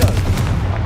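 Confringo fire spell blast from the Hogwarts Legacy video game, a brief, loud booming burst with a heavy low rumble that fills the moment.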